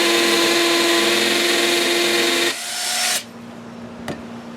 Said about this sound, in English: put it on hammer mode, and then you can pop a hole right through the cinder block.